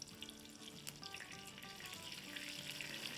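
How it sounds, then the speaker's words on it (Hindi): Whole red chilies, mustard seeds and white cumin seeds sautéing in hot oil, giving off a continuous soft sizzle and crackle with small pops, quiet and close with no voices. "4 साबुत लाल मिर्चें हैं, 1 टीस्पून रायदाना है और 1 टीस्पून सफ़ेद ज़ीरा साबुत। इसको थोड़ा सा सॉटे करेंगे।"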